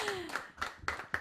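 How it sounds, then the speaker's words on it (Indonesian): A few people clap hands at a casual talk-show chat, five separate sharp claps spaced roughly evenly, with a brief voice tone at the start. "Tepuk tangan dong."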